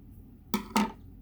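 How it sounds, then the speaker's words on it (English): Scissors snip twice in quick succession, close and crisp, trimming the ends of a homemade squishy made from folded paper, with quiet room tone around them. "Sometimes you need to cut off the ends."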